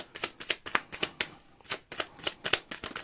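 A deck of cards is shuffled by hand in a quiet room, giving a quick run of crisp riffling bursts and soft slaps in an uneven rhythm, close and alone with no talk.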